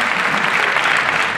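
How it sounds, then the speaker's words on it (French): Audience at a show in the Zénith d'Auvergne arena applauds loudly, a dense steady wash of clapping from a large crowd throughout the brief moment. "Allez, on les applaudit bien fort."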